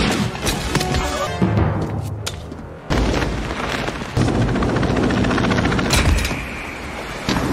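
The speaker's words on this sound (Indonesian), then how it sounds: "Jim pun berencana kabur dengan helikopter yang dibawa Franz" A helicopter's rotor chop and engine roar mix with loud booms and thuds, abrupt cuts between bursts of noise.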